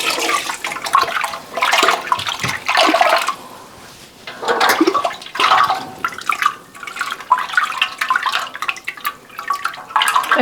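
Warm whey sloshes and swirls as it is stirred in a pot during Gouda cheese making, loud bursts of liquid churning with brief pauses between strokes, and no talking.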